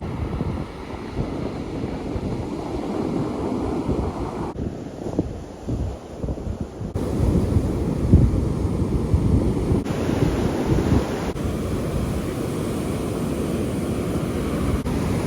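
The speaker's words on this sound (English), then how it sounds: "These waves are insane." Ocean surf rolls and crashes continuously, loud and close, with heavy wind buffeting the microphone throughout.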